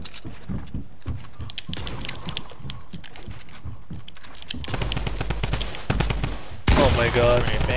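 Drum gun firing in a shooter video game, rapid bursts of automatic gunfire that grow louder and denser toward the end, mixed with other game sounds.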